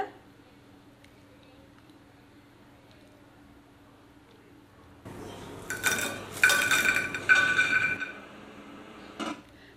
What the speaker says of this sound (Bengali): শব্দ শুনে নিশ্চয়ই বুঝতে পাচ্ছেন এটা কতটা ক্রিস্পি ছিল